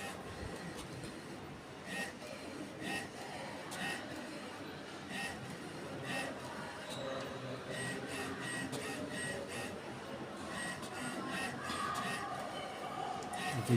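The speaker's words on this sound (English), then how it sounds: "It's printing on its own." An HP Smart Tank 500/600 series inkjet printer runs a test page, giving a steady mechanical whir with repeated faint clicks and carriage movements throughout, moderately quiet and without speech.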